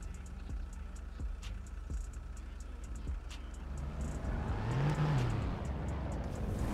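A car in a video game pulls out and drives off, its steady engine drone rising gradually with a brief rev near the end, close and continuous with no talking.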